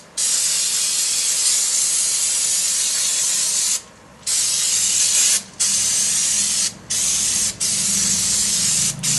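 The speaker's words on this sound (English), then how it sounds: "I'm just going to take and spray it down with some brake cleaner" Aerosol brake cleaner sprayed onto GM drum brakes during a brake job: a loud, close, steady hissing spray in long bursts broken by several brief pauses, with no talking.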